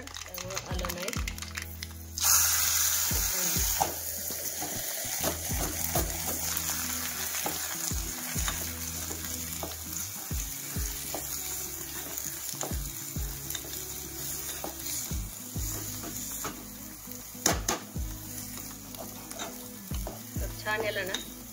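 Cumin and mustard seeds crackle and sizzle in very hot oil in a home kitchen, a steady close frying hiss broken by scattered pops and stirring clatter. A voice talks over it.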